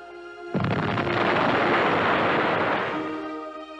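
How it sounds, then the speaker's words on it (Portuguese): A large explosion from a V1 flying bomb in 1944 wartime, a sudden loud broadband boom that starts abruptly and rumbles on for about three seconds before slowly fading. "vinha a grande explosão"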